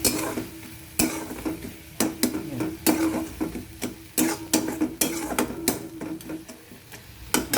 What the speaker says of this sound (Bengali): মোটামুটি সব মশলা আমার দেওয়া হয়ে গেল ভালো করে এবার কষাবো